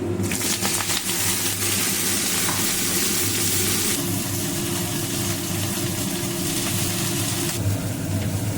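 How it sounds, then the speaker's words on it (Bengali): Pumpkin stems for a vegetarian curry fry in a pan in a Bengali home kitchen, a steady dense sizzle running unbroken throughout, loud and close with a low hum underneath and no voices. "এইদিকে দেখতে পাচ্ছি একটা নিরামিষ তরকারি হচ্ছে"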